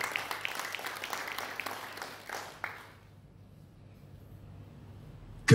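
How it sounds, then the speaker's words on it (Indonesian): Applause from a church congregation during a Sunday service, a few seconds of dense clapping that thins out and fades into near silence. "Tepuk tangan untuk Tuhan Yesus"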